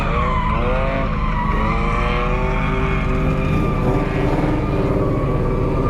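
A Ford Mustang drift car slides with sustained, wavering tire squeal and skidding over engine roar, heard loud and continuous from nearby with no talking.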